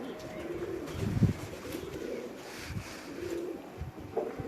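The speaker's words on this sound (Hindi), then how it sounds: "वो छत वाला कबूतर ही निकाल के ले आए" A fine rooftop pigeon coos softly in low, rounded murmurs that repeat a few times over a quiet background, with no voices present.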